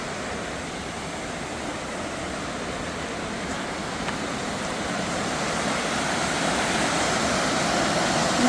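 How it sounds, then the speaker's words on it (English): Waterfall at Little River Canyon near Fort Payne, a steady broadband rush of falling water, loud and continuous throughout and swelling slightly toward the end, with no voices. "Another nice waterfall."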